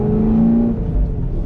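A Chevrolet Camaro's engine revs in a steady, loud, close rumble that holds strong, dips briefly, and then continues with no one speaking.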